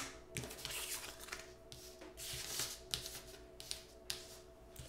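Tarot cards being shuffled and laid out, several brisk riffling bursts with soft slaps and rustles, close and fairly quiet, no talk.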